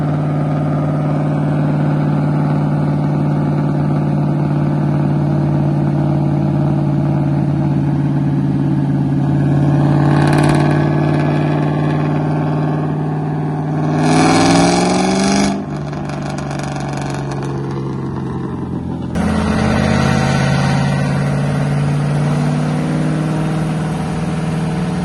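A Pontiac GTO with a 4.8 engine runs on a dyno, idling steadily and then revving in a few loud bursts that sweep up and fall back before settling to idle again, close and continuous with no talk.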